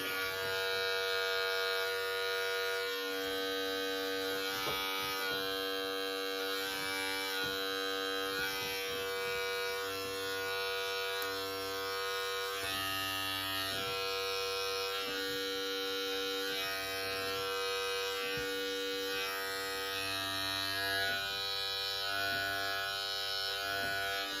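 Electric hair clippers fitted with a 1/8 inch guard trim a beard and blend it into the mustache, giving a steady close buzz with a fine rustle of cutting that runs unbroken throughout.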